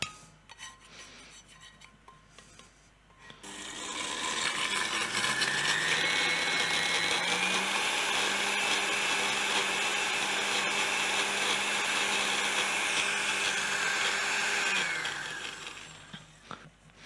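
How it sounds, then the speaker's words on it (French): A kitchen blender whirs through a celery purée, starting after a quiet stretch and holding a loud, steady high-pitched motor roar for about ten seconds before winding down. "On vient verser dans le blender."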